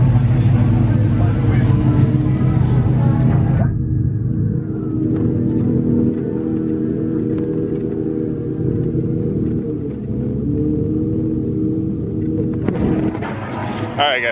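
An LS-swapped rear-wheel-drive Chevy Cavalier on a drag strip, loud continuous engine roar that drops to a lower rumble partway through before rising again, with voices talking over it.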